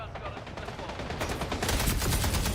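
Rapid automatic gunfire from a first-person shooter video game as a full magazine is emptied, a dense continuous burst of shots that gets louder toward the end.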